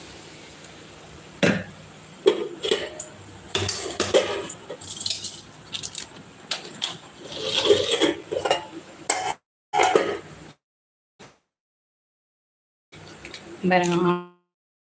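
Quail pieces go into a thick, oily gravy in a metal pan for a fried quail dish. A spoon scrapes and clanks repeatedly against the pan in close, irregular bursts, with someone talking at times.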